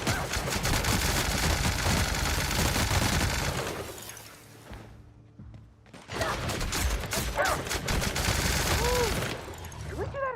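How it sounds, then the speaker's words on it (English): Spectrum Gatling gun in the shooter game The Outer Worlds firing long, loud, rapid bursts, a dense rattling stream that pauses for a couple of seconds and then resumes, with faint voices in the mix. "The Spectrum Gatling gun."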